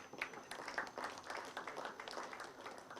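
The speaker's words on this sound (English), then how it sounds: "I want to request you to clap for this special occasion." A crowd at a sports partnership launch event claps in a steady patter of applause heard from a distance, fairly faint and continuous throughout.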